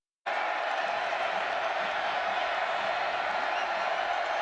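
Large crowd at a college football game between Cal Poly and Montana, heard as a steady, dense roar of cheering that starts abruptly and holds loud and unbroken to the end.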